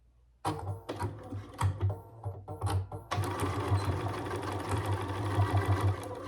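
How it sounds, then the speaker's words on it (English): Sewing machine stitching foam pocket flaps for a fold-up wallet, starting with a few short stuttering runs and then settling into a steady, close, continuous whir with a low motor hum. "We're gonna put our foam pocket flaps right sides together and sew around the outskirts here, leaving the side open."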